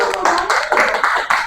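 Group of people clapping for a winning team at a classroom or group event, a dense burst of close, loud hand claps, a few voices mixed in.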